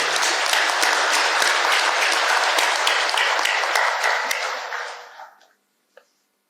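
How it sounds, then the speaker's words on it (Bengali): A large audience at a public speech claps loudly in a dense, sustained burst of applause that tapers off and fades into silence, with one stray clap at the end. "সবাই মিলে আপনার জোরে হাততালি"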